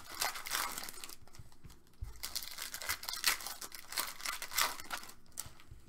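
A Topps Finest baseball trading card pack wrapper being torn and crinkled open up close, a run of sharp, irregular crackling rips and crumples with short pauses between them.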